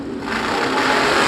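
A supercharged drag racing car engine roars loud and close, a dense high-pitched mechanical howl that builds steadily through a brief burst.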